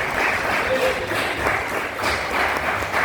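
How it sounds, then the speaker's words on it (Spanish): Congregational applause in a church service, a sustained wash of clapping from the crowd with a voice speaking over it. "den un aplauso"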